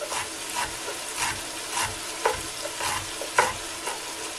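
Vegetables with chopped dill sautéing in a pan, a steady sizzle broken by regular scraping stirs roughly every half second, close and fairly even with no voices.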